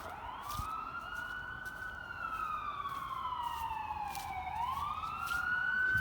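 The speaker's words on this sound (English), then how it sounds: "You don't ever hear sirens. It's a ambulance." An ambulance siren in a small town wails in long rising and falling sweeps, moderately distant over a steady background hum, growing slightly louder toward the end.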